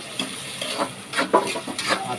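Chicken being stirred in a simmering pot, with soft scraping strokes and a steady low sizzle and bubbling, close and fairly loud, no talking.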